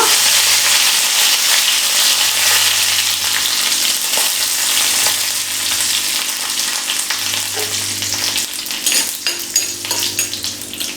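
Torn dried red chillies and curry leaves fry in hot oil in a pan for dosa uppumavu. A loud, steady crackling sizzle continues throughout, with a few faint stirring clinks.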